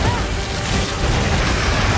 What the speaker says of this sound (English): The little explosion of flat-looking flame.